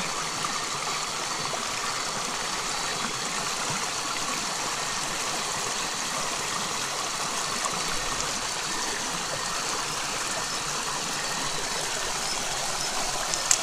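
Steady rushing of a flowing stream, water splashing and gurgling continuously at an even level, with no voices.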